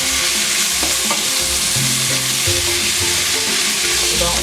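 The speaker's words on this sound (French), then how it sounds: "Et enfin, notre tomate. On mélange." Vegetables with tomato sizzle loudly in a frying pan while being stirred, a dense continuous crackle with scraping utensil strokes against the pan, close up.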